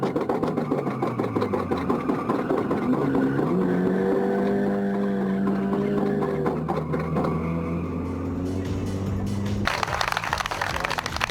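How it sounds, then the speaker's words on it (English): Race car engine noise heard from inside the cockpit as a tyre delaminates, a steady loud drone with shifting engine tones and a sudden burst of broadband rattle near the end. "Just the tyre started delaminating"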